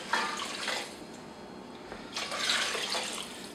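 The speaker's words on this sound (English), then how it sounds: "now we're going to start adding in the liquid ingredients. So we have 4 cups of water." Water pours into a cooking pot holding carrots and celery for a one-pot couscous meal, a steady splashing rush in two surges, close and moderately loud, with no talking.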